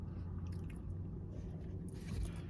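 Crunchy Back to Nature chocolate chunk cookies are chewed close to the mic, with soft, steady crunching and squishing under a low background hum.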